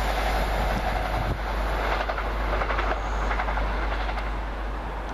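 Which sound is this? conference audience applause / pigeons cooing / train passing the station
train passing the station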